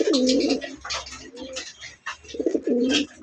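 Sky-blue Raj Golla pigeons cooing close by, several throaty, rolling coos in quick succession with short gaps.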